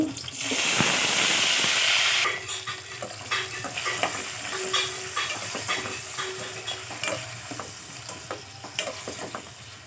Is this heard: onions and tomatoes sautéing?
yes